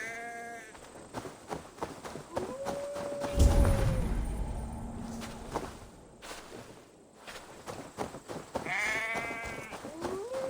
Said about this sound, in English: That sounds like a sheep, and not a happy one.